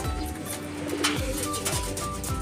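Pigeons coo close by, several low, rolling coos repeating in quick succession over a dense, steady background hum.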